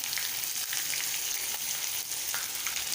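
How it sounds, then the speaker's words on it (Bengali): Chapila fish frying in a pan with tomato as it is stirred, giving a continuous close sizzle with light scraping. "এটাকে সুন্দর করে নাড়াচাড়া করবো।"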